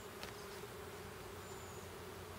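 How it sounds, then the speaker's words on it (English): Honeybees swarming around an opened hive during an afternoon inspection, a continuous dense buzzing drone, steady and fairly close, with no talk. "these bees are letting me know, don't come around here at 3:45 in the afternoon"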